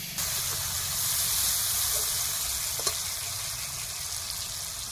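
Spice paste and a splash of water sizzle steadily in a pan as a Bengali cabbage dish with fish head is sautéed, a constant close frying hiss with a few faint clinks and stirring touches.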